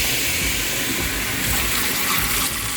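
Steady rush of water from a running kitchen tap, hands rinsing underneath after handling raw meat, with faint splashing, continuous and close throughout.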